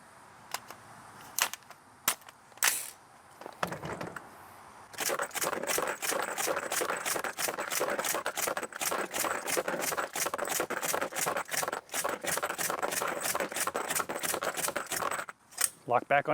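A USGI rifle magazine is handled and tested, giving a long run of sharp metallic clicks and clacks in quick, irregular succession after a few sparse opening snaps, close and moderately loud.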